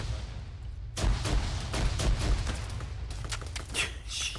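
Gunfire and a frag grenade blast in the Arma 3 military game, with dense bursts of rapid shots and booms that continue steadily at mid distance.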